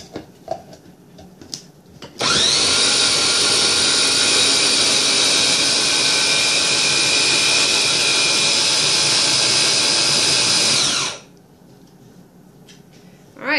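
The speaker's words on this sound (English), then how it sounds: "And I'm going to blend it." A blender grinds black beans and eggs into brownie batter, starting abruptly with a loud, steady high-pitched whir that runs about nine seconds and then cuts off, with no talking.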